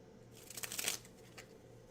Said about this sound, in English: How do you do the waterfall shuffle?